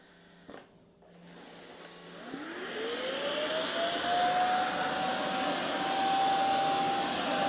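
A Narwal Freo Z10 Ultra robot vacuum ramps up to higher suction power, its whine rising from a quiet hum into a loud, steady rushing drone with a sustained tonal pitch.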